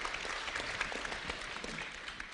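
An audience at a Seoul civic ideas presentation event claps in a brief, steady burst of applause, moderately distant and unaccompanied by speech.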